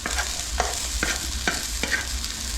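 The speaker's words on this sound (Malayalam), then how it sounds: "ഈ ബാക്കി സെലറി ബിരിയാണി റൈസിനകത്തിടുന്ന ഞാൻ ചെറുതായിട്ടൊന്ന് വഴറ്റി ഇതിനകത്തോട്ട് വാരിയെടുക്കുകയാണ്" Chopped celery is sautéed briefly in a hot pan for chicken dum biryani, a close, steady sizzle punctuated by about five regular scraping strokes of a spoon against the pan.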